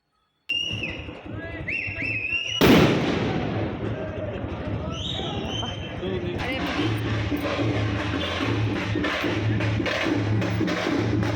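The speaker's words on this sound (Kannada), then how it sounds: "ಪಟಾಕಿ ಎಲ್ಲ ಜೋರಾಗಿ ಹೊಡಿತಾಯಿದ್ರು" Firecrackers go off loudly outdoors: one heavy bang early on, then a long stretch of rapid, crackling bursts, with voices and whistling sounds heard among the blasts.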